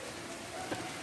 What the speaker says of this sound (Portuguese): Desculpa o barulho da chuva,